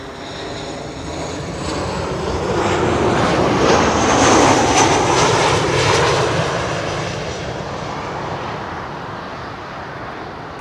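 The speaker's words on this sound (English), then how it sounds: "KLM 737 arriving from Edinburgh." A KLM Boeing 737 jet arriving at Schiphol airport roars overhead, swelling loud to a peak midway and then fading steadily, with no talking.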